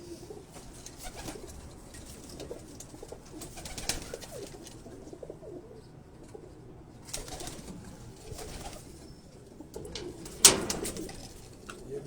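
Pigeons coo softly in low, repeated murmurs on a Karachi rooftop, with occasional flutters and a sharp knock near the end.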